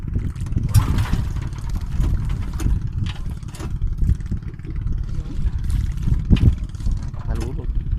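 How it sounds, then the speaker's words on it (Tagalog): A fishing boat's engine struggles to start out on a reef, giving low, uneven rumbling and sputtering with a few sharp clanks, while people talk nearby over the water. "Ayaw po pumandar ang aming makina."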